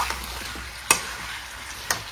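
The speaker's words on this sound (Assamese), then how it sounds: "এতিয়া মাংসখিনি দি ভাজি আছোঁ" Chicken meat frying in a pan gives a steady, close sizzling hiss, broken by two sharp utensil taps about a second apart. No one speaks.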